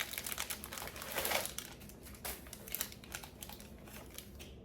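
A Kurt Geiger fabric dust bag for a purse is handled up close, giving a steady run of soft crinkling and rustling with brief sharper crackles.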